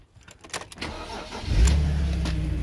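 A BMW E46 325 with an M Sport trim and manual gearbox, about 76,000 miles, cranks briefly with a few clicks and whirs, then fires and settles into a steady, close idle.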